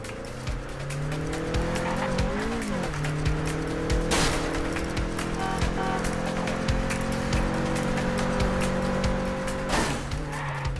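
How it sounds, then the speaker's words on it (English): Racing car engine roaring steadily in a Vin Diesel driving video game, with tires squealing and skidding and a sharp crash-like impact near the middle and another at the end, loud and continuous with no talk. "I couldn't hear you over the sound of me smashing the car."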